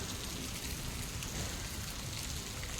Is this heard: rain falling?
yes